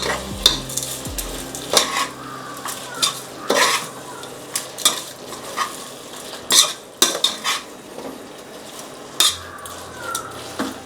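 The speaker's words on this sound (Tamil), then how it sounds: "இந்த நம்ம போட்டிருக்க தக்காளி, வெங்காயத்தை எல்லாத்துக்கும் கரெக்டாக இருக்கும். இதுக்கப்புறம் நீங்கள் போட தேவையில்லை. ஸோ லைட்டாக வதக்கிப்போம்." Tomato and onion sauté in a pan for a country chicken curry. A spatula scrapes and knocks against the metal over a soft, steady sizzle. Close clatters come in an irregular rhythm with no talk.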